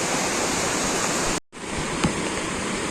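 Broadband rushing water from Amcha Gavcho Shubhra waterfall pours steadily and loudly, broken by a brief drop-out near the middle before the roar resumes unchanged.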